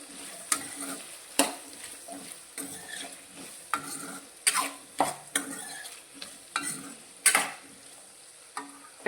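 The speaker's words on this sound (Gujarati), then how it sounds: "એક મિનિટ જેવું આપણે બટાકાને આ રીતે તેલમાં સાંતર્યા છે" Potatoes are stirred and sautéed in oil in a pan: a soft background sizzle broken by about a dozen sharp scraping strokes of a spoon at an uneven rhythm, close and clear, with no talking.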